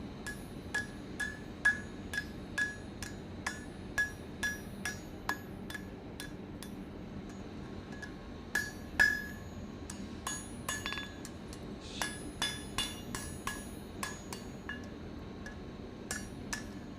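A hammer striking a quenched steel leaf hook while shaping it, with sharp metallic clinks in an irregular rhythm of repeated blows, close and fairly loud over faint background noise.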